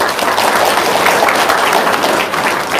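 Loud, dense applause from an audience at an Indonesian motivational seminar, continuous clapping throughout with no pauses.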